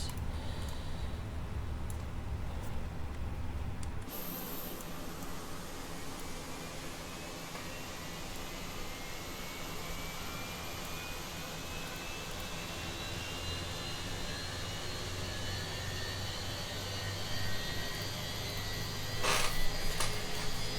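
Airbus A321 jet engines spooling up in Microsoft Flight Simulator 2020, a steady broadband roar with rising whine building after an abrupt change early on, continuous and fairly close, ending with a brief louder burst.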